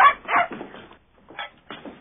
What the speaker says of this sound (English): She's a racer, not a house dog.